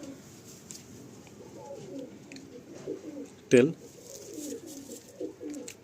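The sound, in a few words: pigeons cooing in a wooden loft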